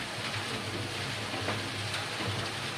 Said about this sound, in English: you can actually hear the honey being forced out and dripping against the sides